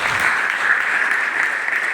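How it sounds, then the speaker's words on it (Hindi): Audience applauding at a business closing event in India: steady, dense clapping from a large crowd, loud and continuous throughout with no voices over it. "उस शख्स के लिए आप ताली बजा सकते हैं"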